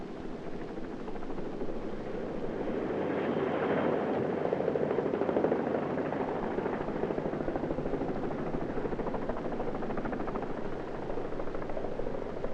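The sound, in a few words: helicopters arriving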